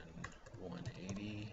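Faint, quiet typing on a computer keyboard during Archicad drafting, a short patter of soft key clicks lasting under two seconds, partly under a low voice.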